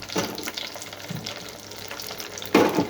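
Cumin seeds dropped into hot oil in a pan for a gongura ridge gourd dal, giving a soft steady sizzle close by that ends in a louder burst of crackling, with no one speaking.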